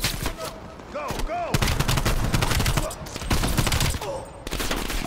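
Rapid gunfire bursts from the Black Ops Cold War campaign crackle and rattle in repeated volleys throughout, loud and close, mixed with in-game voices and a shouted command.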